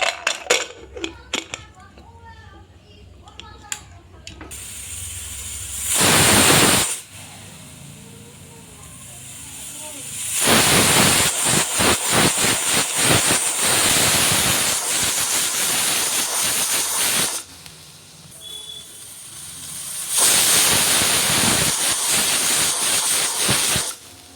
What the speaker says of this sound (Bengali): স্যুপটা ফুটিয়ে নেব প্রেসারে এবার আমি সিটি দিয়ে নিচ্ছি